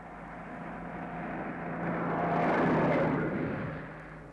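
A lorry drives past on a town street, a broad rumbling engine swelling from a distant approach to a loud pass near the kerb, then easing away as it fades, with no voices over it.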